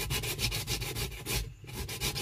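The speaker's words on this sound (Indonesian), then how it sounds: "Kita amplas bagian yang kita lem tadi." Close, rhythmic scratchy rubbing of coarse sandpaper on a glued area of a washing machine tub, quick back-and-forth strokes with a brief pause midway, no voices.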